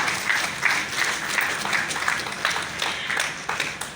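An audience claps for a lecturer at a formal department event, a dense, even round of applause with rhythmic surges that fills the room steadily from start to end.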